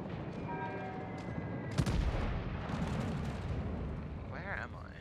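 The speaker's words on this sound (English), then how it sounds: "that's a good amount of forward fire from the battleship" Battleship main guns firing in the naval video game World of Warships, heavy booming salvos with a sharp blast and long rumbling roll, heard amid continuous game noise and engine drone, with a voice talking over it.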